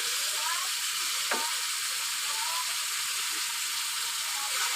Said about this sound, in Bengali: আমি ভালো করে ভাজবো তাকে